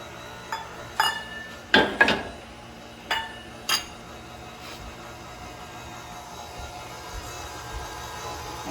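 Coffee cake batter with warm milk being mixed in a bowl, a handful of sharp utensil clinks against the bowl, loud and close, spaced irregularly over the first few seconds, then quiet.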